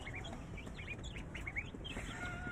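Young chickens gathered at feed, a close chorus of high chirps and peeps over a soft, busy ground of pecking and scratching.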